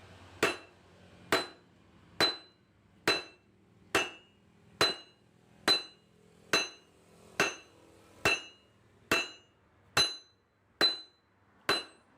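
A fairly large hammer strikes a railway rail clamp being forged into a very hard knife, landing about fourteen evenly spaced, ringing metallic blows, each loud, close and decaying quickly.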